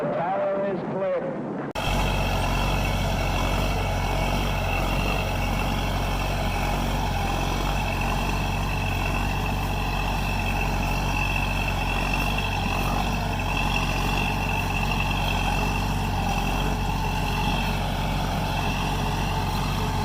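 A Minneapolis Moline UB tractor with a 403 cubic inch power unit, dual weighted wheels, pulls a four-bottom 16-inch plow, its engine a loud, steady, continuous drone after a brief opening of talk.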